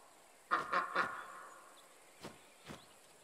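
A duck in the nature video game Lost Ember on Xbox Series X gives three quick, clear quacks, then two softer, spaced quacks over a quiet ambient background.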